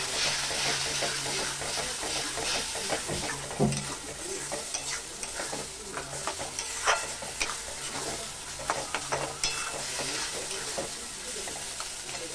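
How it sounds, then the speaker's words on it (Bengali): Spice paste with turmeric and Kashmiri chilli powder sizzles and fries for a fish curry, a constant loud hiss with repeated scraping and clacking as a spoon stirs the pan. "এবার মশলাটা দিয়ে ভালো করে মশলাটা কষিয়ে নেব।"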